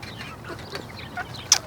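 Mature hens on a homestead give soft, scattered clucks at moderate distance, ending with one sharper, louder squawk.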